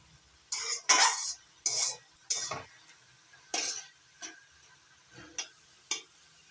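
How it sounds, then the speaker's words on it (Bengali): Spinach with prawns being stirred in a pan while the water cooks off: about nine distinct, close scraping and clinking strokes of a utensil against metal, separated by near-silent gaps. "ততক্ষণ আমি নাড়াচাড়া করে জলটা শুকিয়ে নেব"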